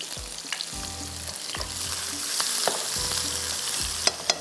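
Onions frying with garlic and cumin in a hot pan, a steady sizzle broken by repeated scraping stirs of a spoon against the pan, close and clear with no talking.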